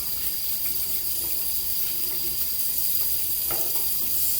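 Tap water runs steadily into a sink to warm water for a wet shave, a continuous close hiss and splash with no talking.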